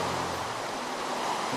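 Steady rain in Minecraft, an even wash of noise that holds constant and close throughout, with no voices.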